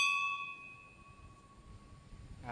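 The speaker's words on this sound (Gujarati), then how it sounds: "ઘંટી બગાડ નાખી." A single metal temple bell clangs once at the Lakshminarayan temple in Kovaya, its bright ringing tone decaying over a couple of seconds amid quiet surroundings.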